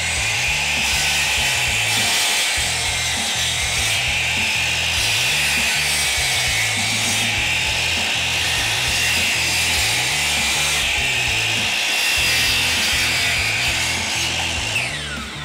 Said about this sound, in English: grab another species of wood and cut those into bowl blanks as well so you can see what they look like